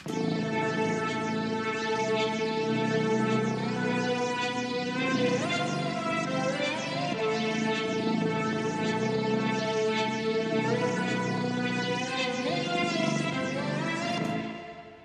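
A synthesizer plays a sustained, low-pass filtered bass-heavy preset tone with shifting harmonic steps, smooth and mellow, alone with no talking, fading at the end.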